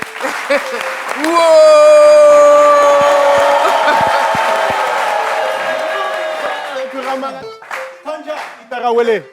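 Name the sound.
audience applause and cheering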